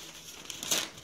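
Newspaper and mail-ad paper crinkling as it is peeled away from Visqueen plastic sheeting that has just been ironed, a short, close crackle that swells near the end.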